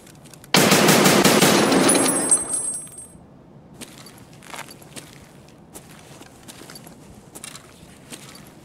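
Escape From Tarkov gunfire, a loud close burst of rapid automatic shots lasting about two seconds and trailing into echo, followed by faint distant pops and scattered clatter.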